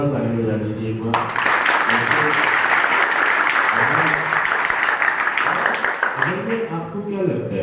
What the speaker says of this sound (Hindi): जोरदार ताली बजा दीजिए एक बार।